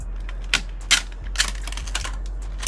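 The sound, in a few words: handling packing tape to make a handle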